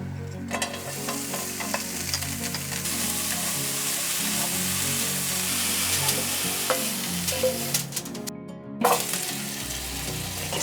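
Chives stir-fry in a lightly oiled pan, giving a steady close sizzle with scraping stir strokes throughout and one brief break near the end.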